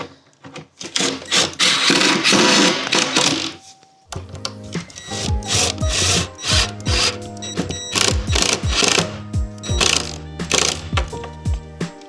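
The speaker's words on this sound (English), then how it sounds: "So here I am using some more clamps." Clamps being worked and tightened on a kitchen hutch shelf, giving a busy run of ratcheting clicks and knocks on wood and metal that carries on fairly close, with a brief pause about a third of the way in.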